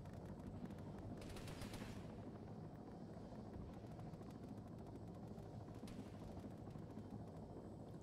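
Gunfire in a tactical military video game, with distant bursts of automatic fire and a helicopter's steady rotor drone underneath, the shooting growing briefly louder twice. No one speaks.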